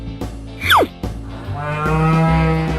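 A cartoon cow lets out a long, loud moo that swells and holds in the second half, after a quick descending whistle-like sweep at the start, with no talking.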